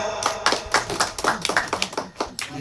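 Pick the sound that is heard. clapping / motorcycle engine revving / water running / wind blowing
clapping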